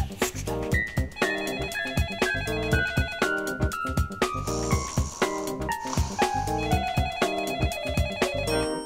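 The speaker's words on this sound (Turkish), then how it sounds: "şu telefona baksana." A telephone rings repeatedly in an office setting, with rapid pulsing rings running under a descending line of musical tones throughout.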